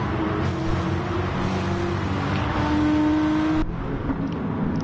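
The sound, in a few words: Corvette race car engine in a racing video game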